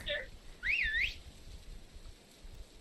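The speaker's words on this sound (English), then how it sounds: "Was that a whistle? Is he trying to signal that it's safe?" A short two-part whistle rises and falls once, clear and fairly loud over a quiet murky background in the Resident Evil 4 visual novel game, with a faint chirp just before it.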